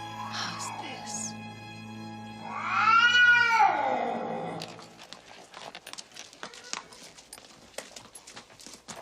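A cat meows in a drawn-out, wavering caterwaul, following a couple of short mews, fairly close, then gives way to soft rustling and crinkling sounds.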